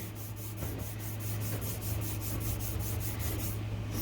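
Color rubbed in by hand to make a sky gives a steady, rhythmic scrubbing sound of repeated strokes, close up over a faint constant hum, with no talking.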